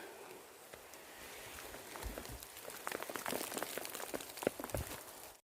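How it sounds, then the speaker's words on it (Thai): Rain falls in a forest behind a house, a faint, steady patter of drops on leaves and ground that grows slightly denser, with no voices. "ฝนก็ตกนะคะเนี่ย"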